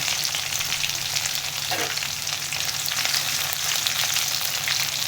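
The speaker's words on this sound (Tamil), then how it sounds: "இடித்த பூண்டை அது கூட சேர்த்துக்கலாம்" Crushed garlic and curry leaves sizzle steadily in hot oil in a pan for kaara kuzhambu, a loud, continuous crackling fry with a brief stir partway through and no talking.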